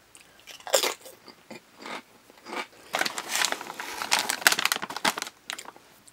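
Lay's potato chips crunch between the teeth in close, crisp bites and chewing, starting as separate snaps and building into denser crackling chewing, with no talk.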